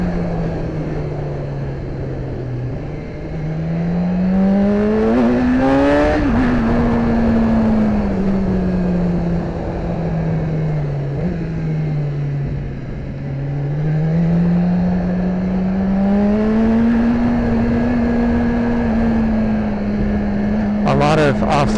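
A BMW S1000RR motorcycle engine on a winding backroad drones loudly and close, its pitch climbing under throttle, then sagging repeatedly as it decelerates off-throttle at high revs amid heavy wind rush.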